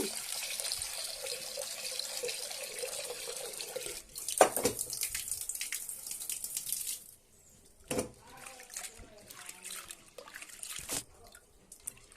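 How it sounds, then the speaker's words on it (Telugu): Tap water runs and splashes into a pot of dal with gongura, salt and turmeric, stopping and restarting a few times, with a sharp clank partway through. "అందుకోసం ఈ నీళ్ళు పోస్తున్నాయండి, పంపు నీళ్ళు ఇవి."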